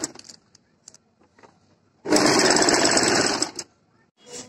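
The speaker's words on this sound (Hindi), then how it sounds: "और अब हम सिलाई लगा देंगे।" A sewing machine runs one continuous burst of about a second and a half, stitching the sleeve seam of a simple kurti. It is loud and close, with quiet handling sounds before it and a short whir after.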